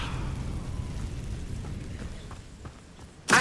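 Levioso spell in the video game Hogwarts Legacy: a low, steady magical rumble holds for a few seconds, then a sudden bright burst snaps in loudly at the very end.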